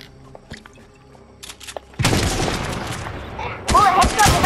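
Gunshots in Fortnite, loud rapid firing that kicks in abruptly and continues in a dense stretch, preceded by quieter game sounds, with a voice briefly audible.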